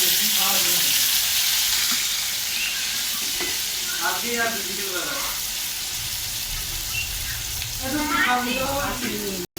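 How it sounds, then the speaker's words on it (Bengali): Potatoes fry in hot oil with cumin seeds, a loud, continuous sizzle and crackle throughout, with being-stirred scrapes and a voice briefly heard underneath. "আমি আলু ছাড়বো, আলুটাকে আমি লাল লাল করে ভাজবো।"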